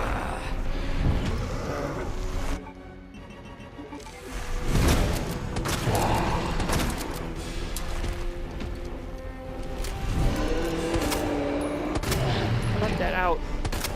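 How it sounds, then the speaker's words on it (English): Shotgun blasts in the video game Resident Evil 2 Remake, several loud booming shots spaced across a dense, noisy game soundscape with other action noise; no voices. "at this point, you just shoot him with the shotgun"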